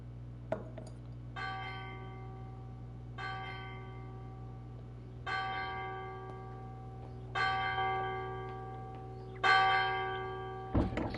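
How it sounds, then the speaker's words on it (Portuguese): Very rusty bell tolling in a horror video game, five slow, evenly spaced strikes over a steady low drone, each ringing out metallically and growing louder toward the end, with no talk. "Sino enferrujadíssimo"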